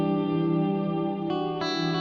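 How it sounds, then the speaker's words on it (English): A sustained clean electric guitar chord ringing out with a long, washy reverb tail, shifting to new notes near the end. "Amazing tail of the reverb"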